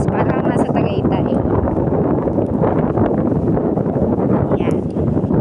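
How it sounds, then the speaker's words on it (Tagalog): Strong wind roars continuously and loudly into the microphone outdoors at a bungalow in Naic, Cavite, burying a voice that speaks faintly beneath it. "Grabe ang hangin dito"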